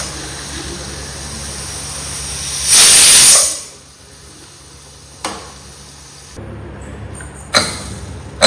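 A pressure cooker cooking fish releases a loud burst of hissing steam for about a second, followed by quieter clicks and short bursts of noise.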